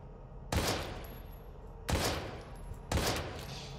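Gunshots in the video game Daymare: 1998, three loud blasts spaced about a second apart, each followed by a ringing decay, with no talk.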